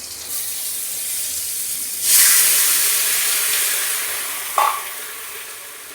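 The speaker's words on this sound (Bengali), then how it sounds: "বেগুনটা আমার ভাজা হয়ে গেছে আমি এবার জল দিয়ে দেবো" Water is poured onto fried brinjal in a hot pan, a low sizzle suddenly flaring into a loud hissing burst of steam that slowly subsides, with a short clink near the end, no voices.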